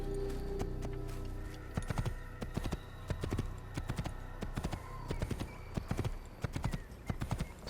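Horse hooves clip-clop in the Assassin's Creed video game, a steady near rhythm of hoofbeats over a background music bed, with a brief whinny.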